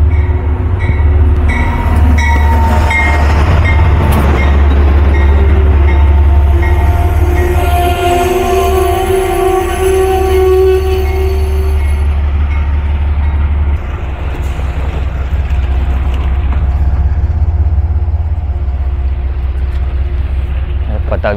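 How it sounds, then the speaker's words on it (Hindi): A short five-car passenger train pulls into a small station on a winter trip from Buffalo to New York, a loud close rumble with squealing wheels and tonal screeches, while voices murmur nearby. "ट्रेन आ चुकी है अभी।"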